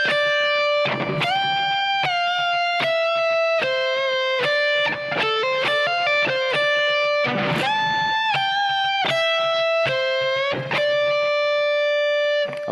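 Electric guitar plays a song's intro lick, a fast run of bent and picked notes with a driven, slightly distorted tone, loud and continuous with no talking.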